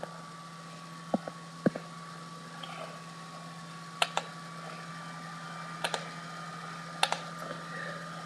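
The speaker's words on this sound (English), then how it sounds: "typing that into our calculator under the y equals menu." Sparse, light presses on a calculator keypad tap out in small clusters over a steady low hum, faint and close, with pauses between bursts.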